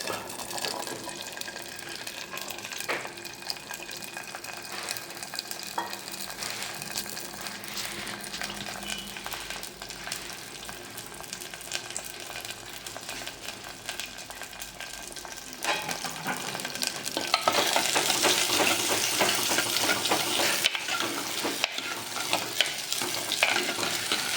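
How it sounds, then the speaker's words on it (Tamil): Garlic frying in oil for a curry leaf and garlic kara kuzhambu, a continuous close sizzle with occasional stirring scrapes that grows louder and brighter toward the end. "இதில் இப்போ நம்ம பூண்டு போடுறோம்"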